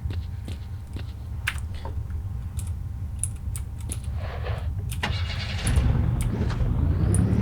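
Car engine in S.T.A.L.K.E.R.: Lost Alpha, starting with scattered clicks and clatter, then rising into a louder steady running drone near the end.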